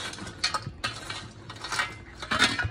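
Boiled macaroni being stirred in a metal pot, with repeated scraping and clinking of a spoon against the sides in uneven bursts, close up and without speech.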